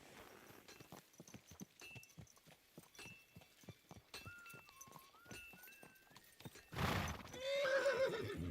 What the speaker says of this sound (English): What a beautiful horse.